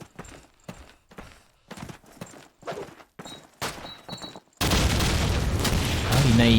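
Grenade explosions in a Call of Duty 2 competitive match: a run of dull thumps under a commentator's voice gives way to a loud, sustained roaring blast that fills the rest of the moment.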